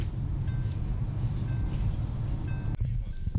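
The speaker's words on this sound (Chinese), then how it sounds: "你看，每次他踩一下离合的时候就会响" A Wuling Hongguang Plus with roughly 4,000 km on it gives off an abnormal noise as the clutch is pressed: a faint whine that comes and goes over a constant low engine rumble, with one sharp knock near the end.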